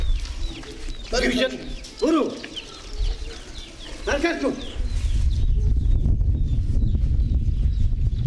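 Chickens and chicks cluck and peep in short bursts close by, with a person speaking over them and a rising background rumble toward the end.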